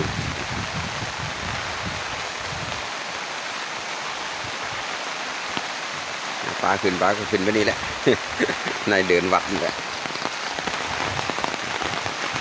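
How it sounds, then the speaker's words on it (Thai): Water runs out of a temple and down into a stream, a continuous close rushing and splashing that holds steady throughout, with someone talking over it partway through. "น้ำไหลออกมาจากวัด มาดูน้ำไหลลง ห้วย"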